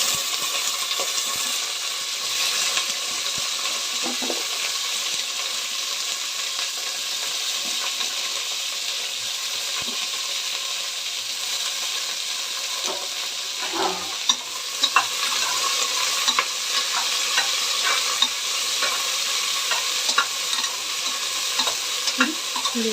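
Drumsticks and curry leaves sizzle steadily in hot oil in a pan, with scattered scraping stir strokes and small clinks throughout; close, continuous frying with no voices.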